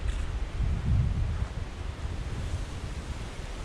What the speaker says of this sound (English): it's really windy, so we've been fighting that all the way